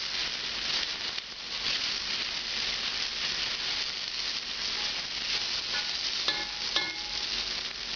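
Chicken cacciatore sizzles steadily in a non-Teflon pan over medium-high heat, with occasional scraping and stirring clatters, the frying loud and continuous throughout, with no voices.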